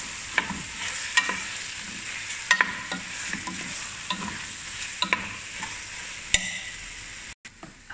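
Butter chicken ingredients stirred in a pan with a small spoon, soft sizzling under repeated light scraping and clinking strokes at an irregular rhythm, fairly quiet and close, without talking.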